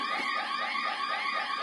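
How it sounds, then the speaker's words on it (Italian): A second alarm blares in a house, a steady electronic tone with a fast pulsing warble repeating several times a second, loud and continuous with no voices. "C'è un secondo allarme!"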